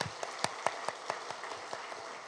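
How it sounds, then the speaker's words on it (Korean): Sparse, distinct hand claps in a church gathering honoring course graduates, about a dozen sharp claps spaced unevenly against a quiet background. "우리 올해 양육훈련 수료하신 모든 분들 향해서 힘찬 격려의 박수 부탁드리도록 하겠습니다."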